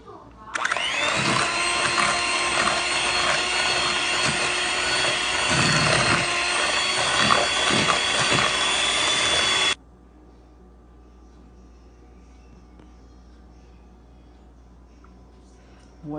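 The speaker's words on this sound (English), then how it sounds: "I'm adding 1 cup of sugar, that is 8 ounces. And I'm gonna cream that together." An electric mixer creaming butter and sugar for a Jamaican flag cake runs as a loud, steady motorized whir for about nine seconds, then cuts off, leaving quiet room tone.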